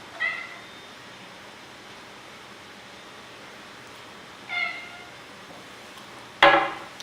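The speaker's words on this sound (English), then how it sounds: "up here comes my cat" A cat meows three separate times at a moderate distance, short cries spaced several seconds apart with the last one the loudest, over a faint steady room hiss.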